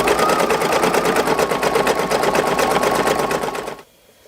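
A Brother SE1900 embroidery machine stitches a design in a fast, even needle rhythm, close and loud, then stops abruptly near the end.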